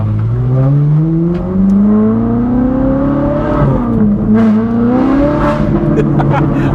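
A car engine revs up steadily, its pitch climbing through the gears, loud and close, with a brief dip before rising again.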